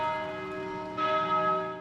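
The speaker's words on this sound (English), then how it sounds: "Church bells rang across Quebec in unison today" Church bells ring across Quebec, a sustained resonant peal that swells slightly partway through and hangs on without any talk.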